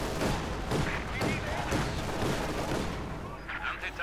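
Mortar and field gun fire in the strategy game Company of Heroes 2, a steady sequence of dull booms and shots across a busy battlefield mix, with a commentator talking over it.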